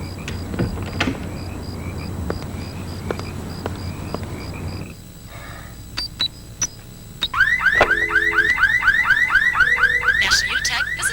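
A car alarm goes off after a few quieter clicks and thumps, then loud repeating electronic warbling siren tones cycle rapidly and continuously until the end.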